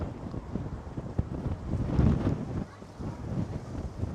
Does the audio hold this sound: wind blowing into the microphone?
yes